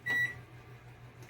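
Two short electronic beeps from a microwave oven keypad, one at the start and another clipped at the end, quiet against a faint kitchen hum.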